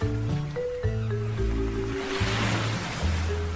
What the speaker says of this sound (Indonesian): Tubuh Malin Kundang terseret ombak, kemudian terdampar kembali di pantai air manis